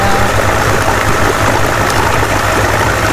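A 60 hp three-cylinder Evinrude tracker outboard engine with its VRO deleted runs steadily, a loud close drone with a low throbbing hum over splashing water, unbroken throughout.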